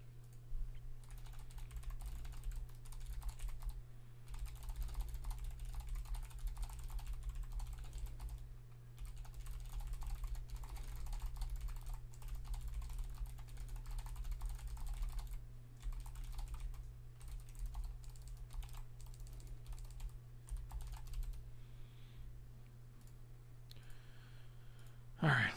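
Rapid, steady typing on a computer keyboard runs throughout during an online Magic card game draft, with dense clicking over a constant low electrical hum and occasional voice.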